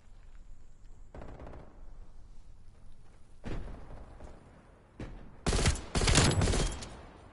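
Gunfire and grenade blasts in the Call of Duty Cold War video game, bursts of rapid shooting and heavy booming explosions in separate bursts, the loudest near the end, with no talk over them.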